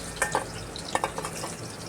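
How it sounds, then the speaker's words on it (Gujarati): Whole bitter gourds fry in hot oil while being stirred, a soft steady sizzle broken by several sharp scraping and clattering stirs close by. "હલાવતા પણ રહીશું જેથી કરીને સારી રીતે કારેલા છોડી જાય"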